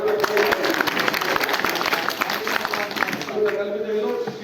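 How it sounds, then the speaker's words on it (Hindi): Audience clapping at a Kashyap community gathering as a guest from Delhi is welcomed, a dense continuous patter of many hands sustained throughout, with a voice speaking over it on the public address. "उनके लिए एक बार ताली बजा दो।"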